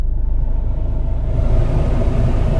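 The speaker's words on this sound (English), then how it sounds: "the blower motor is working perfectly" A steady, low mechanical rumble with a constant whirring hum from a Peugeot Partner's heater blower motor running continuously, close and fairly loud with no talking.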